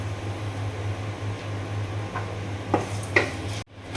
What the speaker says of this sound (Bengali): এই কড়াতে আমি আবার তেল দিয়ে দিলাম একটি এলাচ আর একটু দারুচিনি